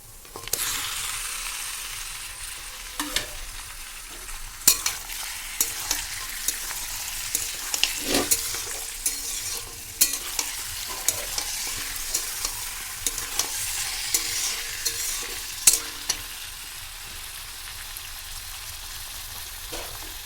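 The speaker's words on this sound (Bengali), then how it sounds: "পেঁয়াজটা লাল হয়ে গেছে, এবার মাংসটা দিয়ে দেবো।" Chicken meat frying with browned onions in a pan for a desi-style murga curry, a constant hissing sizzle with frequent clinking stirs of a spatula.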